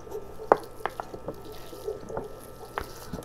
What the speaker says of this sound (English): Water it down real good.